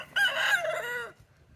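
A hen in a backyard chicken run gives a single loud, drawn-out call lasting about a second, close by, followed by quiet.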